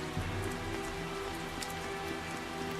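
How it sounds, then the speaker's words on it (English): Steady night rain in the video game Tales of Zestiria, a dense, even patter that holds for the whole stretch with faint sustained low tones underneath and no voices. "walking around at night on a rainy night like this really puts a chill in my heart"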